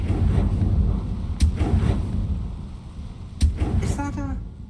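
Confringo fire-blast spells from the Hogwarts Legacy video game go off as two sharp, loud bursts a couple of seconds apart over a rushing, windy background, with a brief voice near the end.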